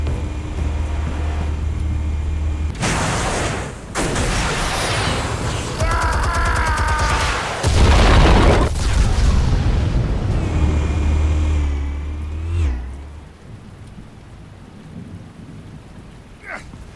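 Explosives detonate in the Batman Telltale Series game: deep booming blasts and rumbling debris fill the scene in loud waves, then fade into a quieter low hum.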